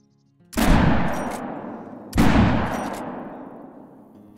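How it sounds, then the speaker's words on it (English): Two heavy 10 gauge shotgun slug blasts ring out in theHunter while hunting on a lake preserve, each a sharp loud boom with a long rolling echo, about one and a half seconds apart, with no talk. "Let's get the 10 gauge slugs now."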